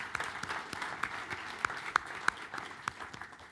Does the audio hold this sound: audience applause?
yes